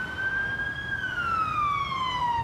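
An ambulance siren wails past a car on a Canadian road, its steady tone sliding lower as it goes by, loud and continuous with no talking.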